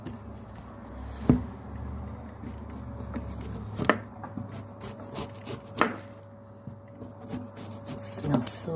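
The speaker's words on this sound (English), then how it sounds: "I have to peel and cut up this yautía." Yautía root vegetable being peeled and cut by hand for Puerto Rican pasteles, a few sharp knife strikes and chops spaced out over steady low kitchen background hum, close and moderately loud.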